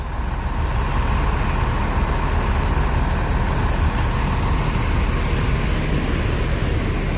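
A bus engine, a Jetbus 5 coach, runs smooth and steady at close range, its even low hum and hiss carrying on without change and with no voices.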